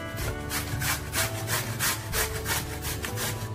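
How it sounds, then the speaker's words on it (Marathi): A red pumpkin is grated by hand in a steady, rhythmic rasping scrape, with each stroke repeating about every third of a second, close and continuous with no talking. "असा लाल भोपळा घेतलेला आहे, तो आपण आता किसून घेऊया।"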